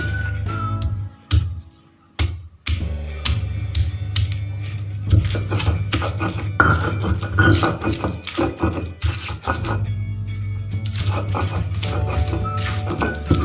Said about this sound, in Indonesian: Masukkan bawang merah, giling.